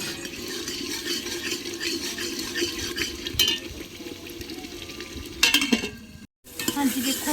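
Soybean chunks roast in masala in a pan, giving a steady loud sizzle and frying hiss with stirring scrapes and a few louder clatters, then a brief cutoff before the sizzle resumes.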